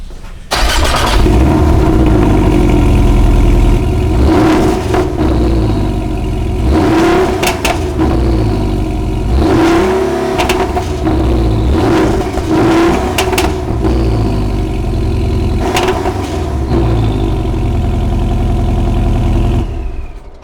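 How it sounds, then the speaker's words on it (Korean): A Porsche 718 Cayman GTS with an aftermarket exhaust fired up from cold, its engine roaring loudly and close, with repeated sharp revs rising and falling over a high, busy idle. "제가 냉간시 소리를 한번 들려드리려고 일부러 시동을 켜고 있지 않습니다"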